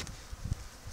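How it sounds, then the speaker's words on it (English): Bees nesting in a hive inside old railroad ties buzz faintly and continuously, a soft distant drone with a few closer passes. "A bunch of bees over here."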